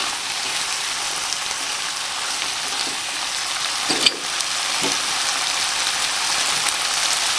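Boiled pork sizzles and fries with tomato in a pan for pork pochero, a steady dense crackle throughout with a brief clatter of stirring near the middle.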